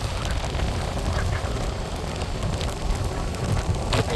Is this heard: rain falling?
yes